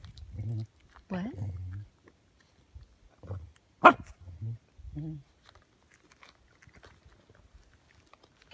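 A corgi gives a few short, close barks while begging for cookies, with a voice talking between them in a quiet room and a sharp higher yelp in the middle.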